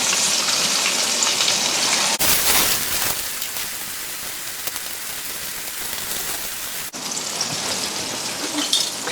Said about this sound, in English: these have been frying for about 6 minutes on one side